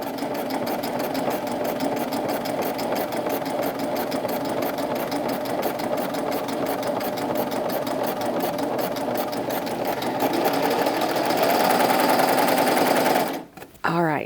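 A sewing machine runs continuously, stitching fabric to gather a skirt. Its close, loud, rapid mechanical clatter holds steady and briefly cuts out near the end.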